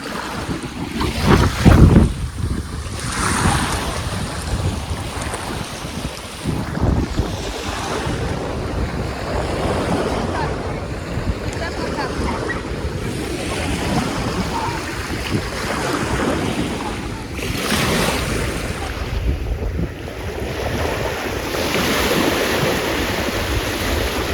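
Sea surf rolls and washes steadily near the shore, with wind buffeting the microphone throughout and a few stronger wave bursts near the start, no talk over it.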